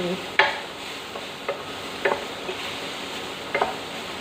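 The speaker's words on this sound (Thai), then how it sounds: "ลงผัด ให้หมูมีความหอมนะคะ ผัดจนได้กลิ่นนะคะมีรากผักชี" Pork stir-fried with coriander root in a hot pan, a steady low sizzle broken by a handful of sharp spatula scrapes and clacks, close and without talk.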